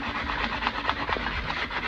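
Rolled-up full sheet of sandpaper rubbed on wooden spindles, a steady close rasping scrub with rhythmic back-and-forth strokes, loud and continuous.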